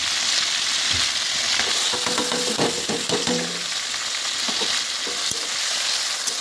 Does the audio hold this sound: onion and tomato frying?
yes